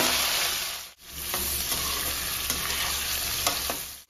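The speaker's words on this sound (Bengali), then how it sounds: "হিঁচড়গুলো হালকা করে ভেজে নিয়েছি" Boiled green jackfruit pieces frying in oil in a pan, a continuous close sizzle with occasional stirring scrapes and one brief dropout, no speech.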